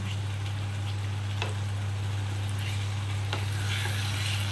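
Chicken sizzles steadily in a hot pan while it is stirred. A dense, even frying hiss fills the whole stretch, with an occasional soft scrape of the utensil, close by and with no talking.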